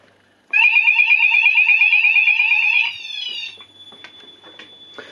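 A Chubb Zonemaster fire alarm detector sounds a loud, close, rapidly warbling electronic tone for a little over two seconds, then drops to a fainter steady beep with a few clicks as it winds down.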